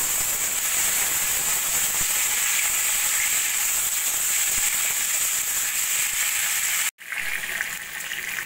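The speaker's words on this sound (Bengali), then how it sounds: "ফোড়ন সোনালি হলে দিয়ে দেবো আমি আগে থেকে কেটে রাখা আলু।" Cut potatoes added to hot oil with cumin seeds and bay leaf, frying with a loud, steady hiss of sizzling up close, briefly cut off near the end before resuming.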